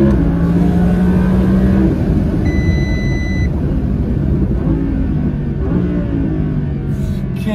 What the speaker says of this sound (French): Quel kiff de downshift.